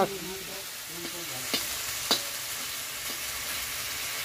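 Elephant apple (chalta) and salted prawns are stirred in a hot pan, giving a steady sizzle of frying with a few sharp scrapes and knocks of the spoon against the pan.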